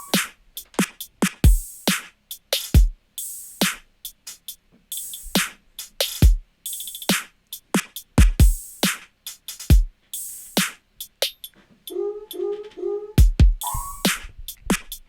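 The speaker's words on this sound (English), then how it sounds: "the main drums sound like this." Main drum group samples from a song project play in a steady looped pattern of punchy kicks and crisp hits, loud and clean, with a brief tonal flourish near the end and no voices.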